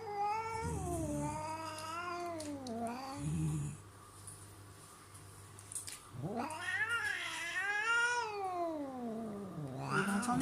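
A cat meows strangely indoors, giving long drawn-out wailing caterwauls that rise and fall in pitch, two loud extended calls separated by a short pause, close and clear with no talk.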